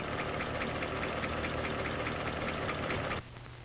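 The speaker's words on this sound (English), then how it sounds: "Now that annoying clatter was the sound of mechanical valve lifters." A car engine with mechanical valve lifters, a rival to a Chevy, runs with a steady, busy clatter and a low rumble. The noise stops abruptly near the end, leaving only a faint hum.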